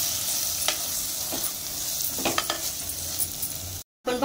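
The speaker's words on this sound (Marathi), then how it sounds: "सर्व मिक्स करून घेऊया।" Pulao masala and whole spices being stirred in a hot pan, a constant sizzle broken by light scraping strokes of a spoon, close up, with a brief cut to silence near the end.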